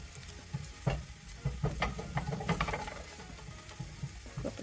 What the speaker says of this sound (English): And then saute the garlic in the pan.